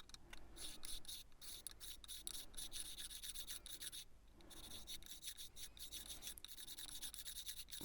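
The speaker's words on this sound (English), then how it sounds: "Then I just sped up doing the crown and polishing of the frets" Steady rasping and rubbing of a file and polishing work on guitar frets across a fretboard, continuous close scraping strokes with brief pauses, no voices.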